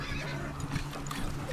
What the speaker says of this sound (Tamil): குதிரை பதறுது